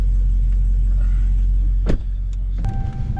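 A 2020 Dodge Charger Hellcat Widebody sits with its engine rumbling, a loud, deep steady drone up close, broken by a brief swell and a click followed by a faint electronic tone.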